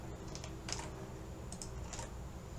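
A few keystrokes on a computer keyboard while working in an Excel spreadsheet, with soft, close clicks landing in small clusters over a quiet background.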